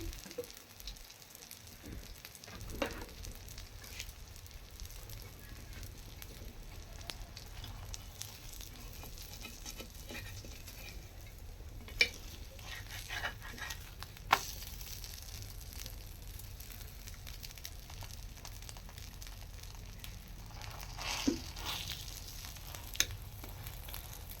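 Aloo kulcha fries in ghee on a pan, giving a steady soft sizzle throughout with a few faint clicks and small pops breaking through now and then.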